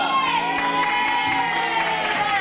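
A group of children cheers and shouts during a kids' activity event, a continuous, loud crowd of young voices with occasional whoops rising above the steady roar.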